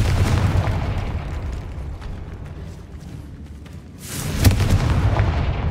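A Confringo spell explosion in Hogwarts Legacy hits hard after a stretch of low rumbling, a loud close blast followed by a sustained booming roar.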